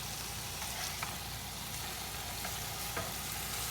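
Food frying in a pan inside a car, a steady close sizzle with faint occasional stirring taps throughout, no voices.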